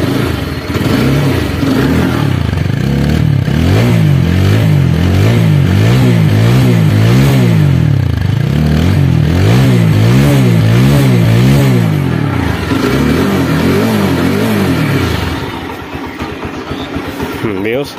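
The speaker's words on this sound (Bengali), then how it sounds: "এরপরে এখন আমি স্টার্ট করে দেখাবো গাড়িটির সাউন্ড কোয়ালিটি।" A used 2019/2020 motorcycle with about 3,400 km on it starts and idles loudly, then revs repeatedly in rising and falling surges before settling back to a rough idle near the end.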